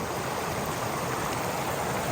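River water flowing at night in a Philippine river where fish are caught by hand, a steady broadband rush that stays continuous and fairly loud throughout with no talk.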